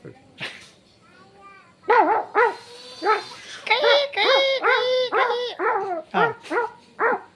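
A voice mimics a dog yelping after being hit by a stone, giving a series of sharp, close, pitched cries and whimpering yips, with brief speech before the imitation.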